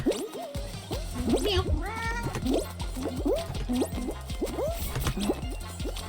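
A person imitates a cat, meowing repeatedly in quick, rising and falling calls during Fall Guys gameplay, with soft game sounds underneath.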